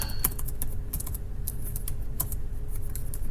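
Fast, uneven clatter of keystrokes on a computer keyboard while entering shell commands, close and steady with no talking.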